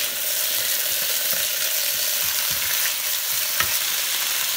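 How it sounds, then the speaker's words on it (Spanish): Pork meat frying in a pan gives a steady, dense sizzle from start to finish, with a few faint stirring scrapes and clicks scattered under the hiss. "Tenemos que se fría toda la carne"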